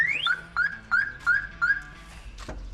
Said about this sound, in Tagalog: Ayan, nag-alarm na.